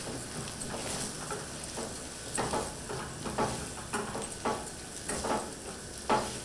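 Chicken curry frying in oil in a home kitchen pan, with mint and coriander added, gives a steady close sizzle with repeated stirring scrapes and soft clatter throughout.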